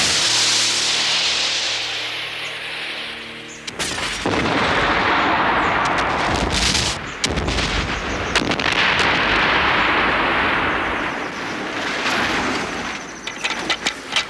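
A special-effect rocket launch blast for the film Bad Taste, heard as a sudden loud boom that breaks a sustained roar, followed by further crackling bursts and rumbling noise with no talking.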